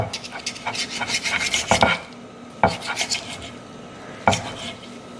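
A knife scrapes and saws against a plate while slicing into a cooked ribeye steak, with a few rasping strokes and sharp clinks of metal on dish, fairly quiet and close with no talk.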